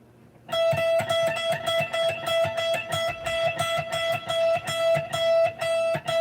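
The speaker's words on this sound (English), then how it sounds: "this is a technique known as tremolo picking." A single high note on electric guitar picked very rapidly and continuously, with a steady distorted tone, a quick even rhythm and no voices.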